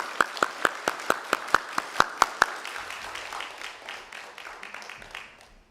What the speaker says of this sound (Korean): 박수로 환영하고 웰컴하겠습니다